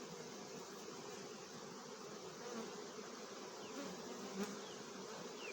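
Carniolan honey bees in an opened hive during a honey check, a dense, even buzzing swarm heard close and continuous, fairly quiet overall with no speech.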